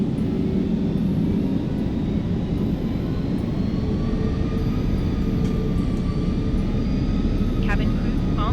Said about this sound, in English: let's spool these engines up and get going.